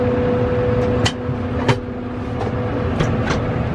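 A tractor with its brush mower snapped off, driven slowly in reverse: a steady low engine drone close by, with a few sharp clanks and knocks over the running motor.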